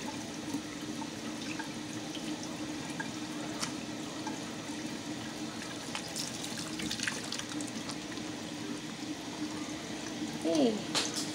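Hands being washed with a ball of homemade lye soap under a running tap, steady splashing water with a constant hum beneath and occasional rubbing and squeaks, a voice briefly audible near the end.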